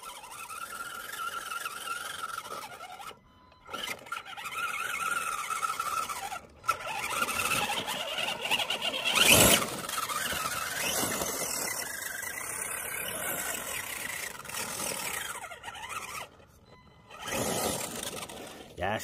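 A small electric RC car's motor whines and its wheels spin up under short bursts of throttle, rising and falling in loudness, with faint voices in the background.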